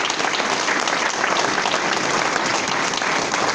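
Audience at a Lincoln Day Dinner applauds steadily for an Illinois attorney general candidate, a dense, sustained wash of clapping from a large crowd throughout, with no talk over it.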